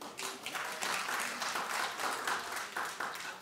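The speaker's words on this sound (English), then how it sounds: "Clap if you saw that movie." A studio audience at a talk show breaks into scattered clapping and applause, a sustained patter of many hands at moderate distance with a faint voice underneath.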